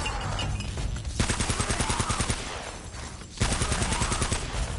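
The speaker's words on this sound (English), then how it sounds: "Yeah, we're gonna just have to shoot all these." Bursts of rapid automatic gunfire from the video game Uncharted: Drake's Fortune, two long volleys of dense, loud shots separated by a short lull.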